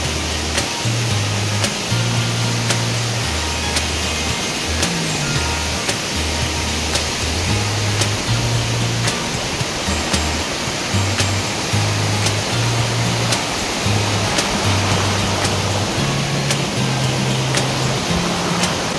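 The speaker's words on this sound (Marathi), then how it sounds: "पाण्याचा प्रवाह खूप जास्त असल्यामुळे" Strong water flow of a waterfall stream along a trail near Bhimashankar, a steady loud rushing roar that fills the whole clip, with a low rhythmic thumping underneath.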